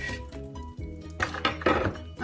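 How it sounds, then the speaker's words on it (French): A metal saucepan and utensils clink and clatter as lemon zest is added, with a run of irregular, close, fairly soft knocks and scrapes and no talking. "Dans une casserole, je vais mettre mes zestes de citron,"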